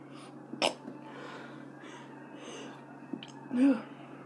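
A soft, quick sneeze near the start, a quieter breathy pause, then a second short sneeze-like burst at the end, close to the listener.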